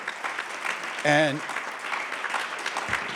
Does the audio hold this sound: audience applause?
yes